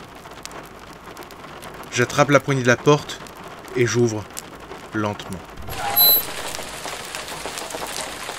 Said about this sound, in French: La pluie commence à me tremper